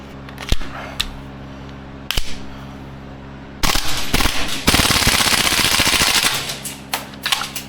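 A Maruyama ISO556 gas blowback airsoft rifle fires: a few single sharp cracks, then a dense rattling full-auto burst of about a second, another long rapid burst, and trailing clacks, loud and close.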